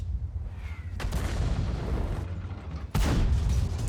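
Tank cannon shots in World of Tanks, two loud booming blasts about two seconds apart, each with a sharp crack and a long rumbling tail over continuous low battle rumble.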